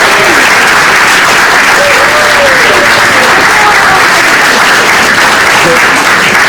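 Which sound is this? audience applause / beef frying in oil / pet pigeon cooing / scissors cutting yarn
audience applause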